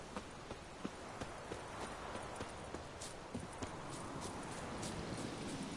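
Horse hooves clip-clop in a steady walking rhythm on the ground in The Witcher 3, the regular hoofbeats fairly close against a constant hiss of wind and ambience, with no voices.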